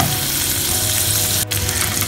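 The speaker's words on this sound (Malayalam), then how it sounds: "ഒരു 5 മിനിറ്റ്സ് കൂടി നമുക്കത് ഫ്രൈ ചെയ്തെടുക്കാം." Prawns frying in a pan for a garlic sauce, a steady dense sizzle that carries on loudly and continuously with a brief dip near the end, no voices.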